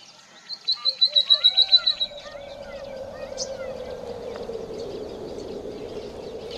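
A white-naped tit in Indian thorn forest gives a rapid series of about nine bright, ringing notes, clear and fairly close, before fading into a steady low wash of ambient noise.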